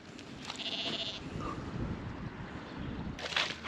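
Sheep and lambs bleat in an open field, with a couple of wavering calls at a moderate distance over steady wind and outdoor background noise.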